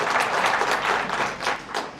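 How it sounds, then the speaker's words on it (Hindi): Scattered audience clapping at a talk on a communal clash in Bahraich, steady and moderate across the whole stretch with no voices. "इसमें थोड़ा ताली कम बजा रहे हैं"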